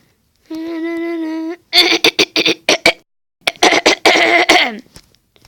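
A short tonal hum is followed by a series of sharp, rapid coughs in two clusters, close and loud, then silence.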